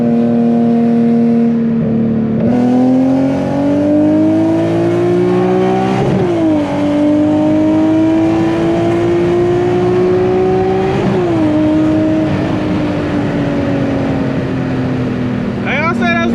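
An Infiniti Q50 on a drag race run accelerates hard and loud, its engine note climbing steadily and dropping sharply at each of several quick gear shifts, then pulling up again to the end.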